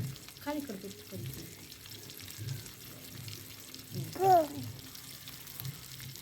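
Fish pieces fry in a pan of plenty of hot oil, giving a low, steady sizzle close by, with people talking over it and a brief louder clatter near the end.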